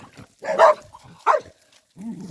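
A puppy in Jamaica barks aggressively close by, a few sharp yappy barks with short gaps and a whiny edge, loud and up front.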